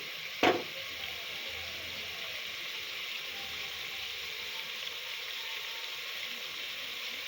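Crab curry fries in a pan after chili powder goes in, giving a steady, soft sizzle throughout, with a brief sharp clink near the start.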